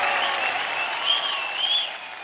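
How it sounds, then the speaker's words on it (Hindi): Loud, sustained audience applause fills the stage show from start to finish, a dense wash of clapping with slight swells near the middle and end. "जोरदार ताली।"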